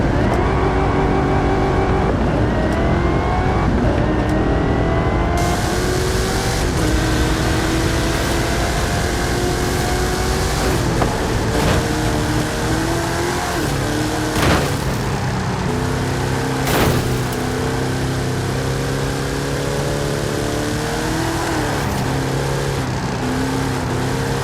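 Hot Wheels cars racing side by side in a drag race in Forza Horizon 5, loud sustained engine roar with rising revs and gear shifts, continuous throughout.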